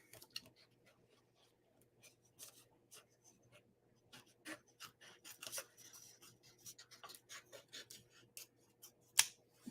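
Scissors snip around a piece of paper card at a craft workshop, a series of quiet, irregular cutting clicks and rustles that grow busier toward the end, close to the mic with a faint steady hum underneath.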